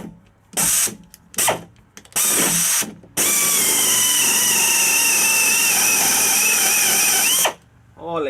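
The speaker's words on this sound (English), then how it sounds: "I want to drill plastic." Power drill boring a pilot hole in plastic during a horn kit installation, with a few short whirring bursts followed by one long, loud, steady drilling run that stops abruptly.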